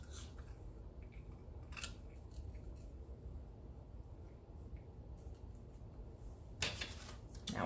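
Scissors snip through jute for a handmade fall garland, a few quiet, sharp cuts spaced apart over a faint room hush, with a louder cluster of snipping near the end.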